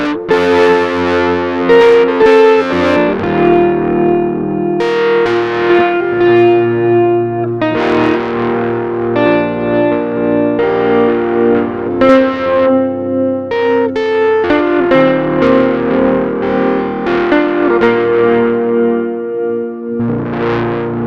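An electric guitar played through fuzz pedals, including the AnalogWise, Carcosa and SF300 Super Fuzz, with no amp in the chain, plays loud, heavily saturated chords and riffs continuously with a thick, buzzing distortion.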